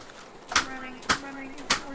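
Three hard, sharp strikes on a computer keyboard, spaced roughly half a second apart, each a clacking thump standing out clearly from quiet background.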